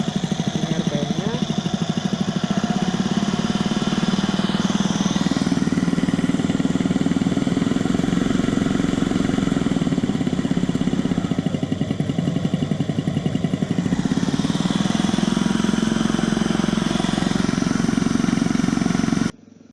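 A piston compressor runs steadily at close range under test, its dense, constant low mechanical drone and clatter holding loud and unbroken from start to end.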